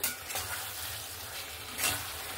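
Potato and drumstick curry with a pinch of sugar being stirred in a pan, a continuous low sizzle with a couple of brief scraping swells from the spoon, close by and without speech.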